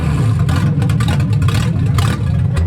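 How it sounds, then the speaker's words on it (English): A VR30 engine swapped into a Nissan 370Z cranks and catches, a loud steady low rumble with choppy, lumpy pulses running throughout and no talking over it. "I'll just do a quick crank."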